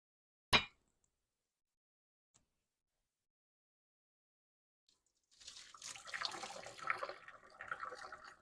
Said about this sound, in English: Now we've got to drain this water off of them